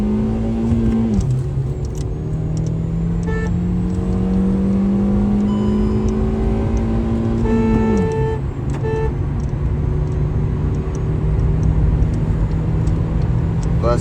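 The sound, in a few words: Hyundai i20 petrol car accelerating from 0 to 100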